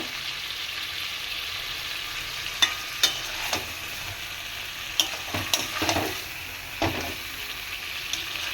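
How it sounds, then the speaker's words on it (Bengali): Lemon chicken masala sautés in a pan with a steady, close sizzle. A spatula stirs through it, making several light scrapes and taps that rise briefly above the constant frying hiss. "এইভাবে আমি 10 মিনিটের মতো কষিয়ে নেব।"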